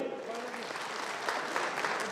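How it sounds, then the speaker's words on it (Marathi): Loud, steady applause from an audience at a newspaper's 14th anniversary event, continuous clapping filling the whole stretch with a few sharper bursts near the end, as an actor is welcomed to the stage. "जोरात टाळी"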